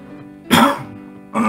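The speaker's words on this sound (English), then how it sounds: "I had to clear my throat." A person clears their throat twice up close, one harsh rasping burst followed by a second shorter one, over a quiet background hum.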